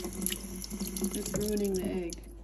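Water runs steadily from a sink tap into a basin in a kitchen, a continuous close splashing rush with faint background voices.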